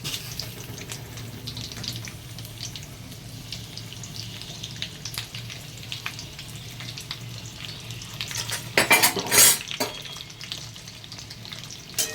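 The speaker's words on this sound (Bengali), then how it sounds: "আলুগুলো আমি একটু ভেজে নেব।" Potatoes fry in oil in a kadai with a continuous low sizzle, and a brief louder burst of crackle and splashing comes near the end.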